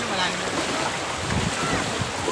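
The strong current of the Bakas River in Norzagaray, Bulacan rushes steadily as a dense, continuous roar of churning water, close and loud throughout with a wind-like wash.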